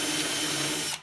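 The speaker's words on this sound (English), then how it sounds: "I'm just going around with this little micro burr on my drill and kind of just fine tuning some stuff" A drill fitted with a small micro burr grinds metal during rust repair on a 1990 Nissan 240SX, a steady high-pitched whine running continuously at close range before cutting off abruptly at the end.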